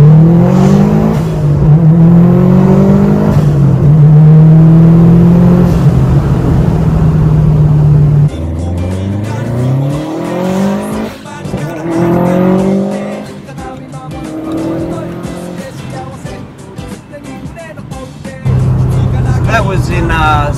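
A stroked 2017 Subaru WRX STi making 500 whp accelerates hard, its engine note climbing loud and close through several gear changes, the revs rising, dropping and rising again, with a voice talking in places.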